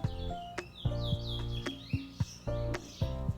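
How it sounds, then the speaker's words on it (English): A bird chirps and whistles in bright, repeated phrases, fairly close, over a low steady background hum. "my brother have a bird just whistling away"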